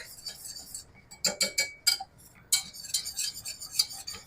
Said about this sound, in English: I'm going to start whisking in the milk